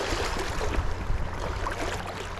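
Fast-flowing river water heard by someone crossing it on foot on a Washington State fly fishing trip, a loud continuous rushing wash close by with no voices.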